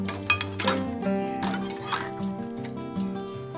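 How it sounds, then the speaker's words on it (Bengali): Hot glass jam jars, sterilized in an oven, are set down on a table, giving a few light glassy clinks and knocks over a steady tonal background. "বয়ামগুলোকে ওভেন থেকে বের করে নিয়ে এখন এইভাবে টেবিলের উপরে রাখবো।"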